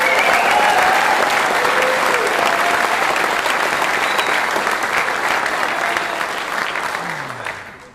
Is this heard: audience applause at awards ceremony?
yes